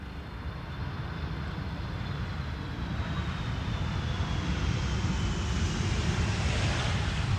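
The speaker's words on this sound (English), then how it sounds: "No, it's an idle reverse landing" Airliner landing on Schiphol's Polderbaan runway 18R with idle reverse thrust, a steady jet roar that grows gradually louder over several seconds, a faint descending whine running through it, with no voices.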